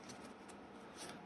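A Yu-Gi-Oh card deck riffled by hand in a quick, close series of soft papery flicks and slaps, quiet and without talk.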